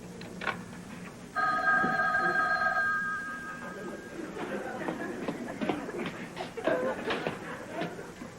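A telephone bell rings loudly in a sitting-room comedy scene, a steady electronic double tone lasting over a second before stopping, then people talk and move about nearby.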